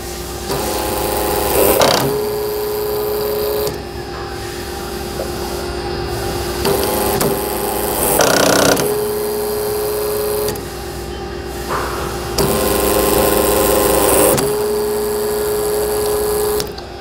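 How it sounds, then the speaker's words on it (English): FlexArm multi-position tapping arm driving a 3/8 tap into a metal part, a loud steady motor whine broken into several segments as the tap feeds in, stops and reverses, up close with no talk. "So again, 3/8 tap, and we'll simply just bring the tap over the part."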